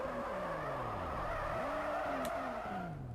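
A Toyota GT86 drifts in the racing video game Drift Street Japan, its engine note sweeping and wavering continuously while tires squeal underneath, a steady loud slide with no talking.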